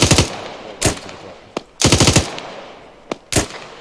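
Gunfire in the Arma 3 military game, several loud close automatic bursts and single sharp shots separated by brief pauses.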